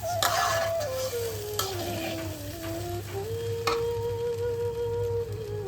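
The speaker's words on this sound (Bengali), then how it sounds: "চালটা আমাদের খুব ভালোভাবে ভাজা হয়ে গেছে। একদম দেখুন কড়াই থেকে পুরোপুরি ছেড়ে যাচ্ছে।" Rice frying in a kadai for Bengali pulao, with a steady close sizzle and repeated scraping strokes of a spatula against the pan.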